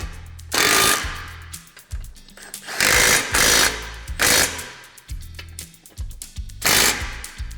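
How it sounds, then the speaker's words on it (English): A power impact tool tightens bumper mount hardware while a winch-ready bumper is installed on a Can-Am Defender UTV, firing in four loud rattling bursts of about a second each, with short pauses between them. "we can go ahead and tighten the rest of our hardware"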